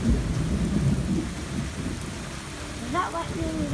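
Thunder from lightning during a rainstorm, a loud close rumble rolling over steady rain at the start, with the rain continuing and brief voices near the end.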